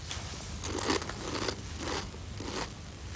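Kellogg's Cornflakes cereal crunches in a steady series of crisp, close bites during eating, with about four distinct crackling chews over a constant background hum.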